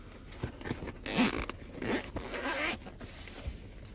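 Zipper pulled open around a small soft carrying case for an Innova 5610 scan tool, a few close, raspy bursts of zipping with short gaps between pulls.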